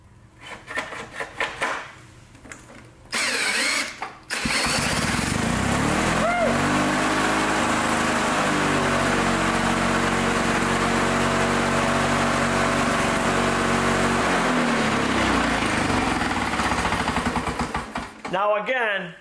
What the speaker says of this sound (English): So let's start this lawnmower.